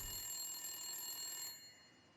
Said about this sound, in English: The ringing of the telephone sounded somehow very simple and mundane